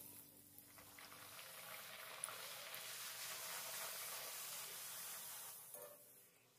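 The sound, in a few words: deep frying green pea kachoris in oil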